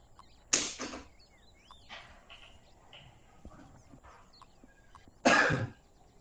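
Two sharp, harsh coughs ring out about five seconds apart, close and loud, with quieter faint sounds scattered between them.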